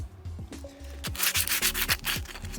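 Close, steady rasping of 60-grit sandpaper scrubbing car paint in an Acura Integra engine bay in repeated back-and-forth strokes, growing louder and more vigorous midway.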